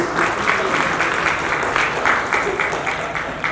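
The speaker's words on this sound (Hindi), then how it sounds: "जोर से तालियां बजाइए प्लीज" An audience at an educational trust event breaks into loud, continuous applause for a guest, the clapping holding steady with slight swells, while a voice carries faintly beneath it.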